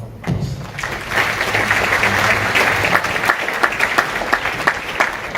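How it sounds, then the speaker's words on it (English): An audience at a cybersecurity and law conference gives a conference panel a round of applause that starts with a thump and then swells into dense, steady clapping that fills the hall. "You can have a round of applause."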